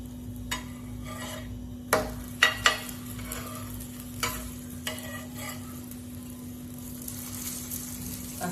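A crispy puffed rice snack with a little oil frying in a pan, a soft steady sizzle broken by a few clear clicks and scrapes as it is stirred or turned, heard alone.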